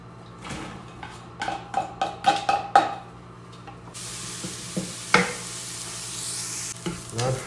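A spoon scrapes and clinks against a pot as onion is stirred in oil, with soft sizzling beneath it, and then a louder steady hiss of frying rises and continues.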